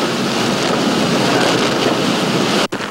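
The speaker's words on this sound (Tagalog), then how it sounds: "Matindi rin ang pagbayo ng hangin" Strong typhoon wind roaring along with heavy sea waves on the coast at Aparri, Cagayan, a loud continuous buffeting rush with microphone wind noise, briefly cutting out near the end.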